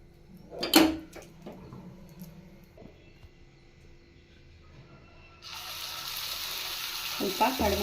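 Oil added to a hot paddu pan while cooking rice paddu, first a few knocks and clatters, then a sudden loud, steady sizzle that carries on to the end.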